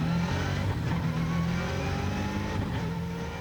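A historic rally car that won the world title thirty years earlier, running at the Festival of Speed, its engine revving loudly with a steady, rumbling low drone throughout and no voices over it.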